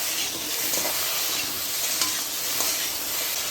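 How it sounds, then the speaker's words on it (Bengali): Taro pieces being stir-fried in a pan, a dense, even sizzle close by with light scraping from stirring throughout and no one speaking. "একটু ভালো করে ভেজে নিতে হবে যাতে কচুর যে লোদ ভাবটা যাতে না থাকে।"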